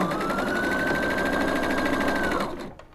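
A sewing machine stitches a 5/8 inch seam along the even edges of a scarf wrap, humming steadily and close for about two and a half seconds before winding down and stopping.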